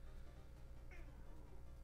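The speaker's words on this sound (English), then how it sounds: "My cat is back." A house cat gives a single short meow partway through, faint and brief against a constant loud background hum.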